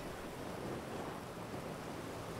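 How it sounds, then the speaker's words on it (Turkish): Steady rain pours in GTA 5 Online, a continuous broadband hiss of constant loudness with a low rumbling undertone, heard alone without voices. "Oğlum yağmur yağıyormuş la."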